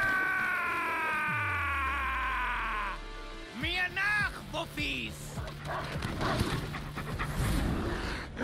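Dogs pant in the Final Fantasy 7 Remake video game, close and heavy, mixed with whines, growls and game effects over a steady background of music.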